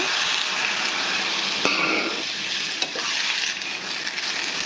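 Tomato and coriander frying in oil give a loud, close, continuous sizzle, punctuated by a couple of sharp spatula knocks against the pan as the mixture is stirred.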